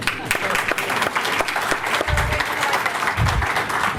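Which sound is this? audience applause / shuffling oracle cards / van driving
audience applause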